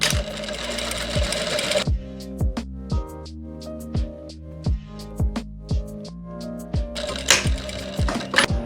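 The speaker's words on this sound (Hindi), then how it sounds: "तो ऐसे ही हमने दूसरी साइड भी सिलाई लगा लेनी है आसन की" A sewing machine stitches the crotch seam of circular palazzo pants, opening and closing with fast continuous whirring runs around a slower stretch of separate, evenly spaced needle thumps, loud and close with no voices.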